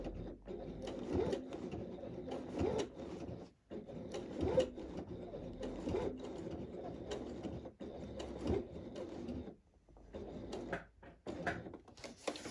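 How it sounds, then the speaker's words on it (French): Sewing machine stitching around the edge of a tote bag, a steady mechanical whirr of rapid needle strokes that runs in bursts with short pauses between passes. "Et je vais coudre tout autour."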